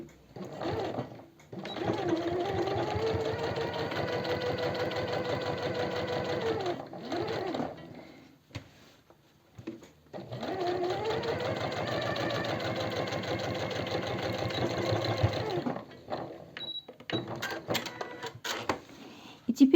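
A sewing machine runs steady topstitching along a seam of men's jeans in two long bursts, each several seconds, separated by a short pause, with brief stop-start runs near the end.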